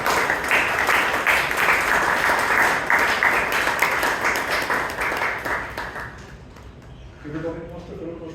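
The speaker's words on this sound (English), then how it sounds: "So please give him a huge round of applause." A club meeting audience applauds loudly for several seconds. The clapping thins and dies away, and then a speaker starts talking.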